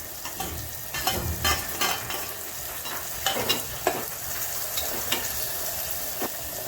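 Chopped tomato and cluster beans sizzle in hot oil in a pan, a steady frying hiss overlaid with repeated scraping and clattering strokes as the mixture is stirred.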